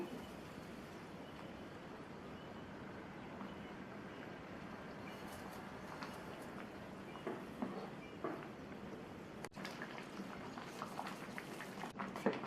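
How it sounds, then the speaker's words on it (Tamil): A steady bubbling, rushing noise of water at a rolling boil in a pot continues throughout, with occasional small pops and clinks near the end. "தண்ணி நல்லா கொதிக்குது"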